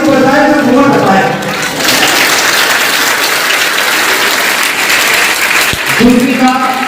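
An audience at a Buddhist women's conference in Hisar bursts into loud, sustained applause lasting several seconds, with a speaker's voice heard at the start and again near the end.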